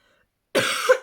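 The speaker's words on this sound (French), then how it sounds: "c'est parce que je ne fais que tousser" A single hoarse cough from a woman with a lingering cough, sharp and close after a moment of silence, with the start of a second cough at the very end.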